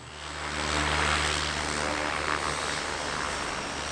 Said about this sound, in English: Most of the planes are these orange and white from Trans-Maldivian Airlines, but there's the occasional other ones as well.